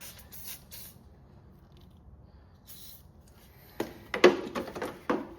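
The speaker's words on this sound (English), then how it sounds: "Let's just spray a little bit of WD-40 on there." WD-40 sprayed onto rusty parts of a Toro LX 427 riding mower: a few short hissing aerosol bursts, the first quieter and spaced, then a louder cluster of close sprays near the end.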